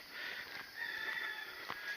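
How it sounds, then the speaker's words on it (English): A rooster crows over steady outdoor countryside background noise, with a few short bird calls around it. No one speaks. "there you go, there's a chicken behind me."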